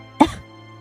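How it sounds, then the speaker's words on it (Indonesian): A woman gives a single short, close cough that fades quickly, a radio drama effect set against a faint steady hum. "Sesekali perempuan ini batuk-batuk."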